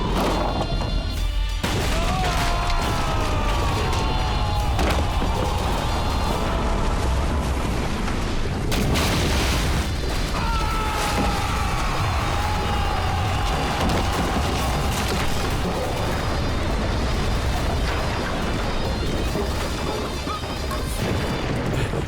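Continuous heavy battle din with repeated booming blasts of cannon shells, dense and loud throughout, with faint tonal sweeps over the rumble.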